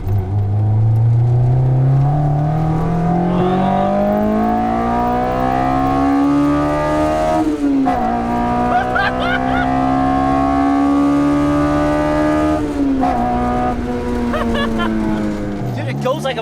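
Car engine accelerating hard through the gears on a driving road, a loud, rising throaty rev that sounds like a motorbike, climbing in pitch, dropping at each shift, then rising again.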